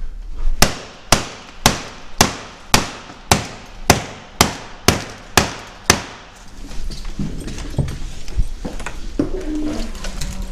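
A hammer bangs on a mortise apartment door lock during a lock replacement, about ten sharp, evenly spaced metallic blows, followed by a looser stretch of clattering and handling noise.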